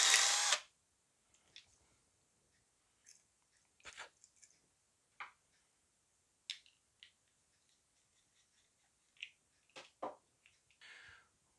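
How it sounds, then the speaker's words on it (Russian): A small drill bit widens the hole in a plastic connector for an automotive test light, heard as sparse, brief scraping and grinding bursts separated by near silence after one louder opening burst. "Берем подходящее сверлышко и немножечко делаем его шире."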